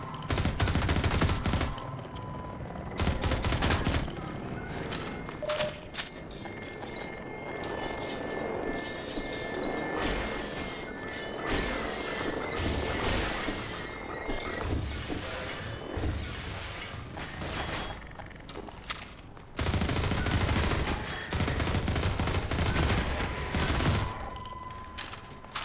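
Gunfire from a gun in Half-Life 2 with the MMod mod, long bursts of automatic fire with crashing and shattering impacts, loud and dense, pausing briefly between volleys.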